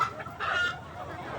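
Chickens cluck over a meal of discarded jackfruit core, the clucking close and fairly loud in short bursts across a brief moment.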